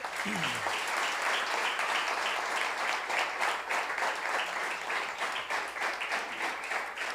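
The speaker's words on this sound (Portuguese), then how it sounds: "Aplauda ao Senhor, meus irmãos" A church congregation applauds for the Lord after a prayer, a dense, steady wash of many hands clapping at full strength throughout, with a brief voice near the start.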